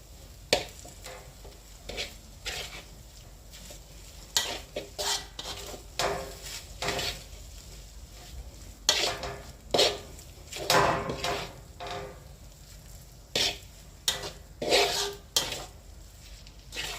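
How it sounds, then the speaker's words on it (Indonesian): Chicken meat being stirred in a pan for a ragout filling, with a utensil scraping and knocking against the metal in irregular bursts close up, with no talk. "Kita masukkan daging ayamnya, kita aduk-aduk lagi"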